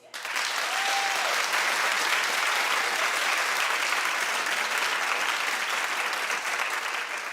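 A TV talk show studio audience claps steadily for several seconds, a dense even patter of many hands that fades slightly at the end.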